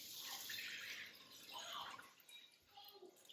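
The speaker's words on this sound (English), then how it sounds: "I'm going to rinse it with water until it runs clear" Running water rinsing rice in a kitchen, a steady hissing stream that swells and eases with small splashes, close and continuous with no voices.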